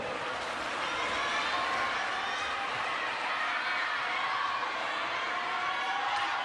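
Arena crowd at the World Table Tennis Championships in Yokohama, men's quarterfinal, murmuring and cheering steadily in a broad wash of voices and whoops that stays loud throughout.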